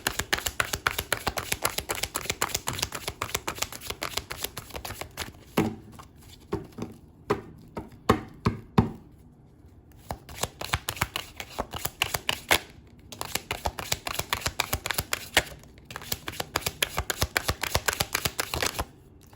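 Tarot cards shuffled and drawn for a pick-a-card reading, dense rapid riffling close up, thinning into scattered taps and card slaps midway before brisk shuffling resumes; no talk.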